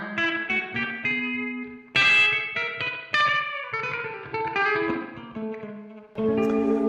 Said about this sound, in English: spring reverbs are the classic kind of guitar reverb that people are used to hearing